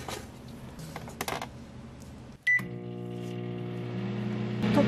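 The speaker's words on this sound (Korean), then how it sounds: "이렇게 해서 전자레인지에다가 돌리는 게 제일 좋아요" Microwave oven heating ginkgo nuts: faint handling clicks, a door thump and beep, then a steady humming drone with rattling turntable tones that grows slightly louder, close and without voices.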